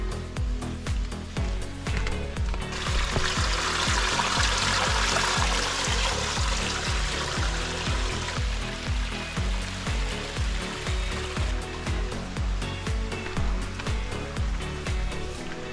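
A small cascading waterfall on Waiheke Island pours and trickles in a steady, close rushing wash of water, continuous throughout with no voices.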